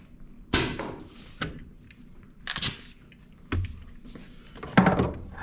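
Nail gun driving nails into a cabinet drawer in a workshop, four sharp, separate pneumatic bangs spaced about a second apart, each with a short hiss, close and loud with no talking.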